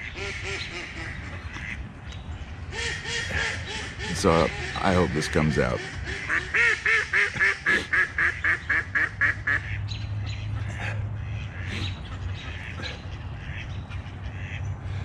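Ducks quack loudly nearby in rapid bursts and a rhythmic series at a campsite in Pigeon Forge, while a person speaks briefly between them.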